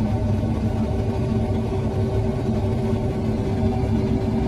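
A 2017 John Deere S670 combine engine runs at a steady idle, with a loud, even, continuous rumble and hum throughout and no voices.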